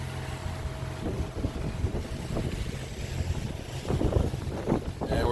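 A Mainship 400 cruises over open water under a steady broadband rush of wind buffeting the microphone, with a low engine hum and water noise running continuously underneath. No one talks.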